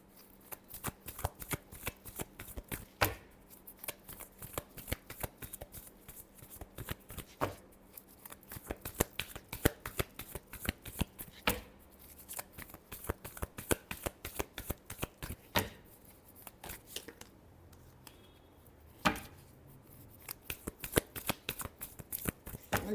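Tarot cards shuffled by hand in a quiet room, a long run of crisp riffling and slapping bursts with short pauses between, close and clear with no talking.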